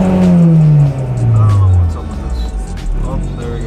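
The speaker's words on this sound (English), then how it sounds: "Now I just gave it some gas and now it's stuck again." Loud car engine held at high idle by a sticking throttle body, a descending revving tone that hangs and slowly drops, with a person talking over it up close.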